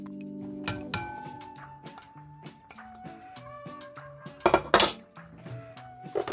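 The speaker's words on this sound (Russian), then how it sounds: "Перемещаем баклажаны, обжаренные, в миску." Fried eggplant slices being shifted into a bowl, with a string of clinks and scrapes of utensils against dishes, closer clatters near the end, and faint tonal music running underneath.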